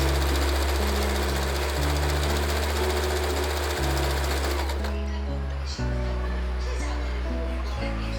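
A sewing machine runs steadily stitching georgette dress panels, a loud mechanical whir with a low repeating pulse that pauses briefly and resumes, under background music.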